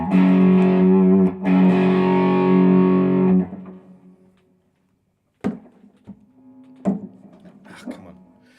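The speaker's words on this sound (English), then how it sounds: "this is the Blues Disorder by Keeley. But I've put it as fuzzy as I can get it" Electric guitar played through a Keeley Blues Disorder pedal set to its fuzziest, giving thick distorted chords that ring loud for a few seconds, then a pause and sparse picked notes and muted hits.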